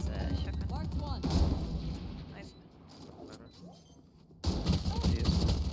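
Bursts of gunfire, including shotgun blasts, crack out in a Valorant Premier match, heavy loud volleys at the start and again near the end, with players' voices talking between the shots.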